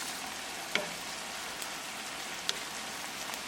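Garlic mushrooms in vegetable stock simmer over medium heat with a steady, soft hiss of sizzling and bubbling, plus a couple of faint clicks, with no talking.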